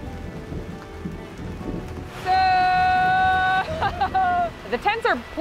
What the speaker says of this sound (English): Rain's starting now.